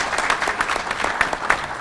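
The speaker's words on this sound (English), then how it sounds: "I heard somebody clapping" Several people clap in quick, uneven bursts, with sharp claps scattered across the moment, in a conference hall during a 2012 Futurefest presentation session.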